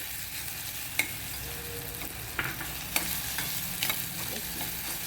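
Onions sautéing in a pan until golden for a traditional homemade raw papaya bhaji, giving a soft, steady sizzle with occasional light clicks of stirring, quiet and close, with no voices.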